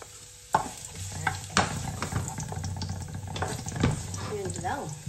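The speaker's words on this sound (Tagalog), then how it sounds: "Igigisa natin ang gulay." Garlic and vegetables sizzle in a pan for pancit with shrimp and chicken, with scraping stirs and clunks against the pan and a brief voice near the end.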